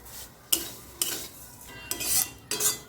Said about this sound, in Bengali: ঘি দেওয়ার পর এখানে আমি দিয়ে দিলাম সিমইটা। আমি কিন্তু ভালো করে ভেজে নিচ্ছি।